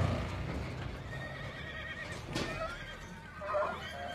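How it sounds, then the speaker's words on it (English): Horses whinny in the distance over a quiet outdoor background, with faint clip-clop of hooves; a clearer neigh rises near the end. A scene from the 2017 film Logan. "Oh, horses!"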